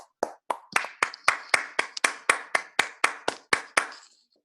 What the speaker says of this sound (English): Allow me to welcome Dr. Goswami with a great round of applause.